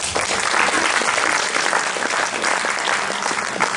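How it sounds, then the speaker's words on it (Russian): Steady, loud applause from a concert audience at an anniversary concert of an author's song club in Yekaterinburg, with many hands clapping evenly throughout and no voices rising above it. "Им тоже похлопаем."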